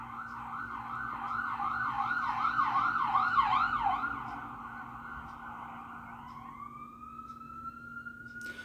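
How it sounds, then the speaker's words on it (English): An emergency siren wails in rapid repeating sweeps in York City, then shifts to a long rising tone as it passes, over a low idling engine hum. "Gotta wait for the siren to pass."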